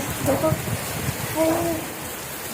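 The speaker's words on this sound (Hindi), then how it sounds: "अचानक से बारिश आ गई, बहुत तेज बारिश आ गई है।" Sudden heavy rain pours down in a steady wash of noise while a person speaks briefly over it.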